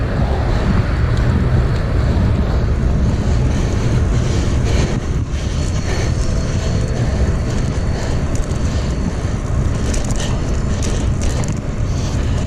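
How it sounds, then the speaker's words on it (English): A loud, continuous roar of a passing train fills the air, rumbling and rattling steadily at close range with no speech. "Holy crap, that train is loud."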